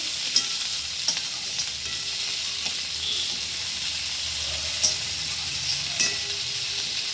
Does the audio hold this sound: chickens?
no